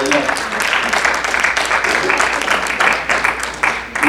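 A church congregation applauding steadily and fairly loudly, with a voice overlapping the clapping.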